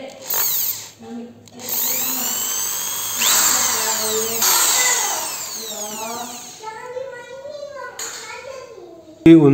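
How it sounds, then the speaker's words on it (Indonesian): Power drill boring into the metal brake pedal spring mount of a Yamaha F1ZR motorcycle, in close whining bursts that rise and fall with short pauses, while someone talks in the background. "Ini saya bor sedikit nih"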